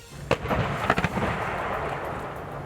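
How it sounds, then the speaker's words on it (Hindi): Artillery shells are fired from cannons during a US and Poland military drill: a few sharp booming blasts in quick succession, followed by a rumbling, rolling echo that lingers across open ground. "फिर तोपों से गोले ऐसे बरसे मानो अमेरिका रूस को ललकार रहा हो"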